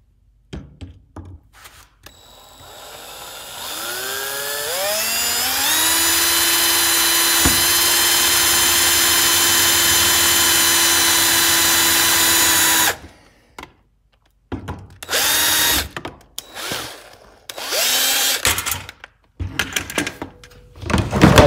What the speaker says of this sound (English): now I'm just gonna drill the holes